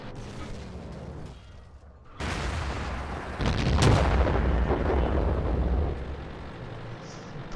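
Tank cannon fire in the World of Tanks video game: a sudden heavy boom, then a second louder blast rolling into a long rumbling decay under battle noise.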